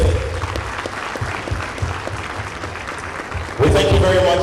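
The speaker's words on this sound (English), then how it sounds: "with a very big and resounding round of applause" Resounding audience applause at an awards ceremony honoring a guest, a steady broadband patter of clapping throughout, swelling louder near the end with music or cheering joining in.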